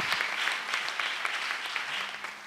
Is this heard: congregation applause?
yes